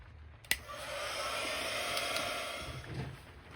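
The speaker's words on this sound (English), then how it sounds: "Just give it a quick blast with the heat gun" A heat gun blows a steady, broad hiss of hot air over a mixed media collage, starting with a sharp click near the beginning and running continuously at moderate loudness without speech.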